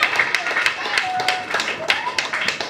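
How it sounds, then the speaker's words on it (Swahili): Clapping from a church congregation, a run of sharp hand claps in a steady, fairly quick rhythm heard up close, with a sustained tone running beneath it. "Mpe Yesu makofi kwa jambo hili."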